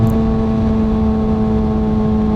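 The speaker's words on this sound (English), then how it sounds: "Gotta love how this bike sounds." A 2020 Kawasaki ZX-6R motorcycle with an aftermarket exhaust idles steadily up close, a deep, even throb with a strong droning tone and no change in pitch.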